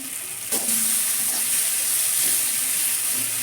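Spices frying in oil in a pan give a loud, steady sizzle close by, with a brief clatter of stirring near the start and no talking.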